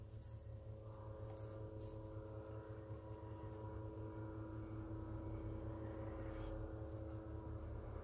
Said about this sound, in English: There's an aeroplane or a helicopter going over.